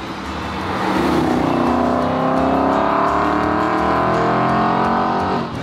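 Aston Martin Vantage engine rising in pitch as it accelerates past a slower car on a road, a loud continuous drone heard alone.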